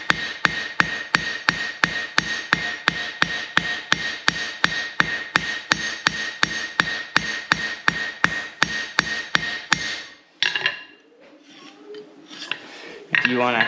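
Blacksmith's hammer beating metal on an anvil: about thirty sharp, evenly spaced ringing strikes in a fast steady rhythm, loud and close, then a pause followed by quieter handling clinks.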